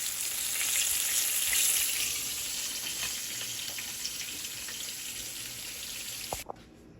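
Beef liver fries in a pan, giving a steady, close hiss and crackle that eases slightly over time, with a brief clink near the end before the sizzle drops away.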